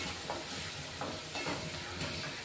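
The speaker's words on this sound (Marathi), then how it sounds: "मसाल्यात कोथिंबीर टाकली ना अशी शिजताना तर खूप छान सुगंध येतो" Fresh coriander sizzles in a pan of frying masala, a steady soft hiss broken by faint stirring scrapes at an even pace.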